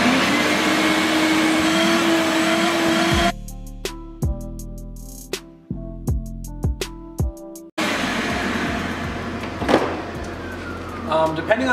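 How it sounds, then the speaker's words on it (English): A vacuum cleaner runs over car carpets taken out of a BMW 7 Series, a loud steady whine that cuts out midway, leaving several short bursts, then comes back at full roar. "First thing you always want to do is just vacuum to get any residual dirt, anything that's on the surface up."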